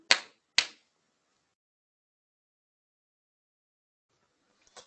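Two sharp hand claps close together near the start, then a long silence and a faint third clap at the end, keeping time in a Turkish children's clapping song.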